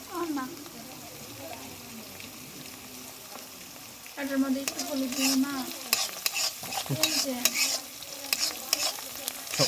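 Pitha rice cakes fry in hot oil with a steady sizzle, broken by clattering stirring and utensil knocks that grow busier partway through, while people talk over the cooking.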